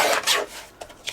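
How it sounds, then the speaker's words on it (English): A paper trimmer slicing through card stock during card making, a short close scraping swipe followed by two lighter taps, all in about a second with nobody speaking. "And then using this, my trimmer, I'm going to just trim that down."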